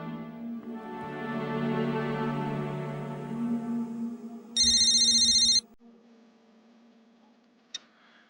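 An old-style electronic telephone bell rings loudly for about a second, a steady trilling burst that cuts in over soft background music and then stops, followed by a sharp click.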